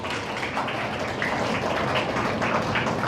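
An audience at a talk on Muslim philanthropy applauds steadily, a dense, even wash of many hands clapping that carries on for the whole stretch at close, full loudness.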